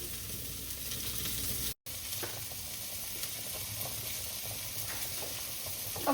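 Steak and zucchini sizzling in a frying pan, a steady crackling hiss with brief pops, close and continuous with a short break.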